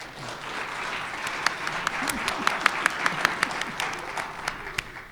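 Conference audience applause in a mock trial on microservices, a sustained crowd of clapping with a few sharp, distinct claps standing out nearby, with some murmured voices underneath.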